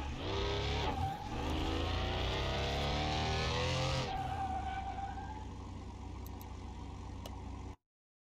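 A 1993 Porsche 911 in a car mechanic simulator game, engine roaring loudly as it drives and oversteers with the handbrake, tires squealing, then the revs settle lower before the sound cuts off abruptly.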